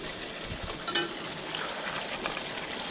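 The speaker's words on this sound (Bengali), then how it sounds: "এখন তেলটা ভালো মতো ছেড়ে এসছে এবার এটার মধ্যে বাদামগুলো দিয়ে দেবো" Nuts drop into hot oil in a pan for a vegetarian chhanar kalia, giving a steady bright sizzle and crackle with a brief spatter burst, continuous and fairly close.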